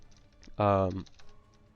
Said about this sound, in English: Ah, I'm typing so poorly.